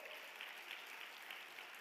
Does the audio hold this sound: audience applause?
yes